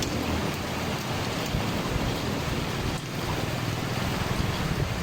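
Heavy typhoon rain pouring steadily, a dense unbroken hiss with a low rumble underneath, loud and close for the whole stretch.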